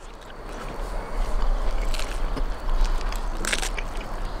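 Close, crunchy chewing of grilled roasted lamb, with crackling bites and irregular crisp snaps, loud and near, with no talking.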